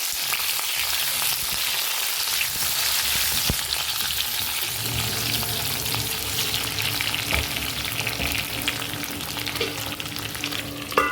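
Potatoes sizzle and crackle steadily in a hot pan with red chili, tossed and stirred for a minute while cooking aloo patta gobhi, the frying loud and continuous with occasional scraping and clinks near the end.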